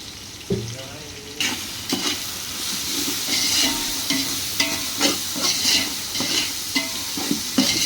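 Salt being stirred into a pan of frying onions and spices for mutton pulao, a spoon scraping in repeated strokes over a steady close sizzle, with no voices.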